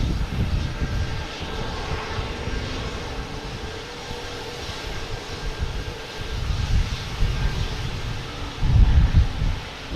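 JetBlue Super Mario airliner arriving at Boston Logan, a continuous low jet engine roar with wind buffeting the microphone, swelling louder toward the end as it nears.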